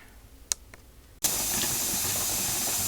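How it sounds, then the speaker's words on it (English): Steam venting from a pressure canner loaded with Italian beef, a couple of faint clicks, then a sudden, steady, loud broadband hiss that continues unbroken to the end. "Okay, there's our steam. So we're going to let that vent for 10 minutes"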